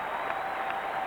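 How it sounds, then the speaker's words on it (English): Rugby spectators in the Western Grandstand at Concord Oval stand and applaud New Zealand after the 1988 Bledisloe Cup test, a brief, steady roar of clapping and crowd noise. "the crowd in this Western Grandstand giving New Zealand a standing ovation"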